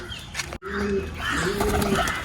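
Haifa pigeons coo inside a loft, with several soft, close murmuring coos over light background noise, briefly interrupted by a sharp click.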